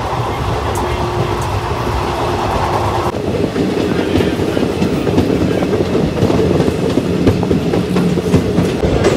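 A Sapthagiri Express passenger train runs between Tiruttani and Chennai Central, its steady loud rumble and rhythmic clickety-clack of wheels on rails filling the whole stretch, with the tone shifting partway through.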